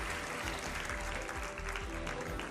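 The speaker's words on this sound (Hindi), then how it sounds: "तालियों के साथ उनका भी स्वागत कीजिए।" A studio audience at a Hindi TV news debate claps to welcome a guest, a dense, continuous burst of applause heard at low level from start to finish.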